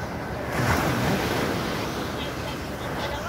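Ocean waves rolling onto a beach, a continuous close wash of surf with some wind noise across the microphone, with no talk over it.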